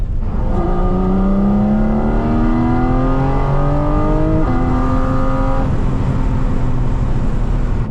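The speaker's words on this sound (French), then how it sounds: "il m'a dit que c'est une des Porsche les plus bruyantes qui existent" A very loud Porsche engine revs hard while driving, its pitch climbing steadily through the gears with a brief shift midway, then settling into a sustained drone heard from inside the car.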